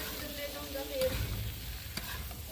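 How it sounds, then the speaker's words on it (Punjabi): Potato and spice bhurji being stirred in a frying pan, a steady sizzle with scraping stir strokes running continuously and close throughout, no talking. "ਇਦਾਂ ਹੀ ਹਲਾ ਹਿਲਾ ਕੇ ਆਪਾਂ ਇਹਨੂੰ ਪਕਾਉਂਦੇ ਰਵਾਂਗੇ"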